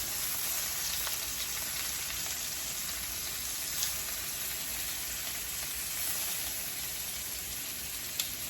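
Meatballs sear in a pan with an even, moderate sizzle that holds steady throughout. Faint pops and a few small ticks sound over the hiss.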